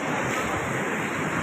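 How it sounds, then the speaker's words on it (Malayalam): Rough sea surf crashes continuously against a rocky shore in Salalah during rock fishing, a loud, steady roar of breaking waves mixed with wind buffeting the microphone, with no voices. "അമ്മാതിരി കടൽ ഹാലിളകി പടാ ഇതാണ് അവസ്ഥ ഇവിടുത്തെ"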